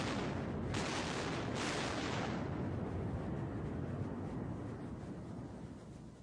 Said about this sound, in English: Here's a video I found of the USS Wisconsin firing guns of a similar size